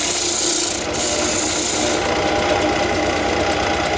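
A gouge on a wood lathe rides the bevel as it cuts a turned palm tree, producing a continuous close rasping, scraping hiss of shavings coming off the wood, with a brief break in intensity partway through.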